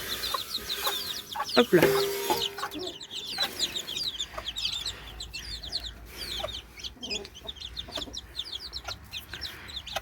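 Mother hens cluck to call their chicks to food in a farm aviary, with rapid high cheeping from the chicks throughout and a brief human voice near the start.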